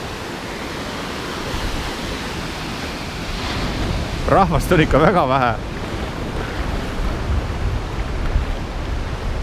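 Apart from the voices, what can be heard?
small sea waves breaking on a beach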